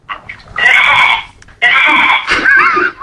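A person on a phone call imitates a goat, voicing two loud, wavering bleats in quick succession, each lasting about a second.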